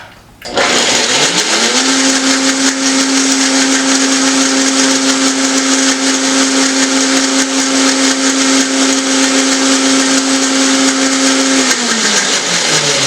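A lidded blender purees a sauce for a seafood dinner, its motor whirring up sharply and holding a loud, steady drone for about eleven seconds, then beginning to wind down at the end, close by with no voices.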